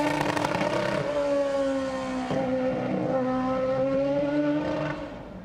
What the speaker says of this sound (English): Shuts the throttle on the 500 brake 5-litre V8.